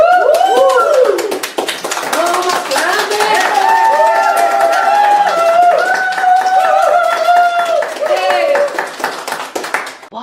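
Audience at a ministry conference session celebrating wins claps together in a dense, steady patter through the clip, with a voice speaking loudly over the applause and tapering slightly at the end.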